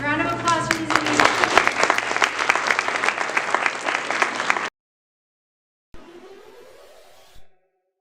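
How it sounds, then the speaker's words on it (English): Applause at a school awards ceremony for medal of honor recipients, a loud burst of many hands with some voices mixed in that stops abruptly, followed by silence and then a faint, brief return of sound. "round of applause for these amazing"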